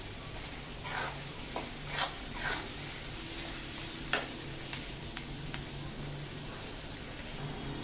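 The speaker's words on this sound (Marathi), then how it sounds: "कांदा परतत आलेला आहे" Chopped onion sautés in a pan for an eggplant bharit, a faint, steady sizzle with a few soft stirring scrapes and taps, with no talk over it.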